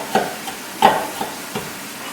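Brown sugar being stirred into hot sauce for barbecue sauce: a handful of short scraping strokes, roughly rhythmic and close, over a faint simmering hiss.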